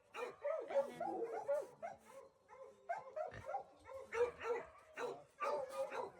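A dog at a crowded animal shelter gives repeated yipping barks and whimpers in uneven bursts, close and fairly clear.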